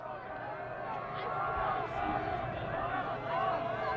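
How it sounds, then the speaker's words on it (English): Home football game crowd and team bench make a steady roar of yelling and cheering on the far side of the field, with dense shouting and babble throughout. "Souhegan trying to have that crowd noise here on the road with the bench and their fans on the far side of the field"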